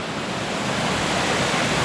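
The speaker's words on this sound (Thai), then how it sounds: "ข้างหน้าเราเจอวิวน้ำตกอีกแล้วนะครับ" A steady, loud roar of rushing water from a nearby waterfall on a mountain trail in Thailand fills the clip, broad and unbroken, with no voices.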